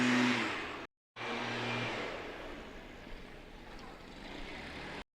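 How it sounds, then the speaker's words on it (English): A lawn blower drones steadily at a bowls green, a loud continuous engine roar with two brief dropouts, the tone wavering slightly as it runs. "that lawn blower is making me crazy now"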